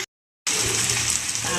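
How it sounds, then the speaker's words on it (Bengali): Water is poured onto basmati rice in a pot for polao, a steady, close rushing splash that starts abruptly after a brief silence and keeps going to the end. "আমি জলটা দিয়ে দেবো"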